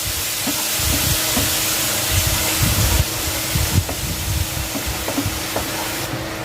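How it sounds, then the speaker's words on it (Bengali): Water from boiled dal poured onto spices frying in oil, including Kashmiri chilli powder, hisses and sizzles steadily throughout at close range, with faint clinks from the pan. "এবার সেদ্ধ করা ডালের জল অল্প একটু দিয়ে দিলাম, যাতে মশলাটা পুড়ে না যায়।"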